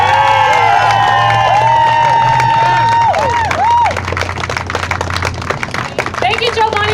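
An audience at an outdoor rally claps and cheers for a speaker, with loud scattered applause and shouts that thin out over time. A voice speaks over amplified sound at the start.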